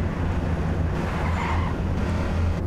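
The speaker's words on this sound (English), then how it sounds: "I wish I knew how to kill the engine on my car." A car engine idles and runs in the survival video game H1Z1, a loud, steady low rumble that continues without a break.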